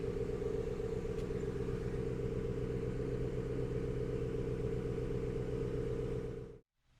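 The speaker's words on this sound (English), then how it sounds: "Compressor just kicked on." Air suspension compressor on a Mercury Marauder running with a steady, even mechanical hum and buzz, close and constant, then cutting off abruptly near the end.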